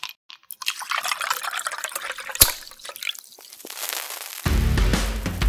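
Drink poured over ice, beginning with clinks and trickling drips, then settling into a steady, close pour of liquid near the end.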